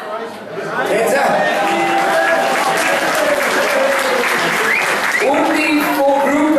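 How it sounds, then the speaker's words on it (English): Sustained applause from a large crowd, steady and loud throughout, with cheering and chatter mixed in. "applause for the Tenza"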